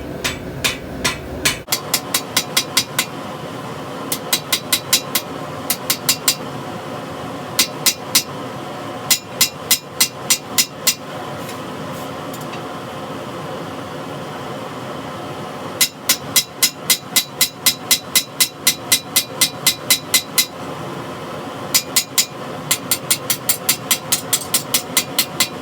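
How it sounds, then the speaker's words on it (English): Hammer forging a 52100 steel drop point hunter knife blade on an anvil: bursts of sharp, ringing metallic strikes in fast rhythmic runs, loud and close, separated by short pauses over a steady low background hum. "My arms are getting a little tired and I'm beating up my anvil"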